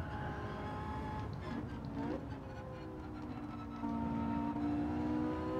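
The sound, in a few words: Porsche 918 Spyder revving in 4th gear, video game Gran Turismo 7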